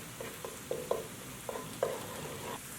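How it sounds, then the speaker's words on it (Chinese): Minced garlic and chili being stir-fried in a wok with a spatula, a soft steady sizzle broken by several sharp scraping strokes of the spatula against the pan, close and moderately loud. "放入搅碎的蒜末和辣椒末，用铲子不断的翻动"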